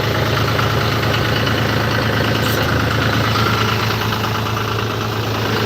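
A John Deere loader tractor used for hay on a farm idles steadily nearby, its diesel engine giving a loud, continuous rumble with an even, unchanging throb throughout.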